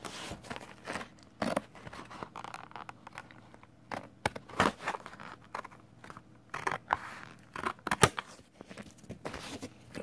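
Scissors snip a cardboard toy package card for a vintage Playmates Monster Force figure, making a string of quiet, sharp crunching cuts in irregular bursts, close up, with no voices.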